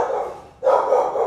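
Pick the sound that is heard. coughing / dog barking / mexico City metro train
dog barking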